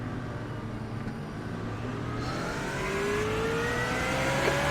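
BMW race car engine in iRacing at Suzuka, a steady droning hum with a rising whine as revs climb, mid-pack on the grid with other cars around, no talk.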